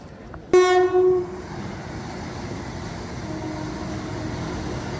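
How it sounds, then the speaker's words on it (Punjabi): A Vande Bharat express train horn blasts loudly for under a second, followed by the steady rumble of the train rolling in nearby. "ਇਹ ਆ ਸੁਪਰ ਫਾਸਟ ਬੰਦੇ ਭਾਰਤ ਅਗੀ ਬਾਈ ਗੱਡੀ ਬਠੰਡੇ ਵਾਲੀ"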